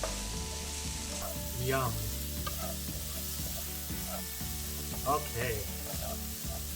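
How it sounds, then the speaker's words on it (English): Textured vegetable protein browning in a pan for vegan japchae, a steady close sizzle broken by repeated scraping stirs, with a brief spoken interjection partway through. "we brown the textured vegetable protein, even though it's not raw meat, we brown it to add flavor"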